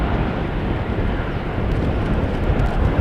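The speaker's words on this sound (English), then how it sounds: "The E2 Embraer from KLM taking the shortcut," A KLM Embraer E2 jet taking off from Schiphol's runway 36L in showery, windy weather, a broad steady roar heard from outside and fairly loud, with wind buffeting the microphone.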